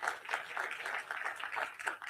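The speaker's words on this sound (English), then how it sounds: "Give him a round of applause" A meeting audience applauds the city manager and staff, a steady wash of many hands clapping at moderate volume, continuous through the moment with no break.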